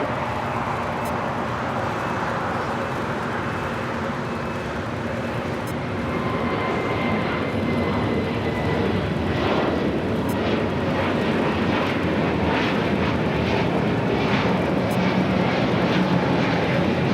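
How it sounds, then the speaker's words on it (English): An American Airlines A321neo takes off from runway 25 right at LAX, the jet roar building and swelling louder over the second half, a continuous rumble with a rising whine and no talk over it. "American Airlines, flight 1240 heading to Reagan National, and then A321 Neo will be taking off on"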